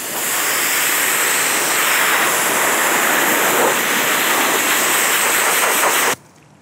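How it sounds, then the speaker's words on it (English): A pressure washer sprays a steady, loud hiss of water while rinsing paint out of a polishing pad used on a rusty 1967 Chevrolet C10, running continuously for about six seconds before cutting off abruptly. "take my pressure washer, pressure wash out the paint."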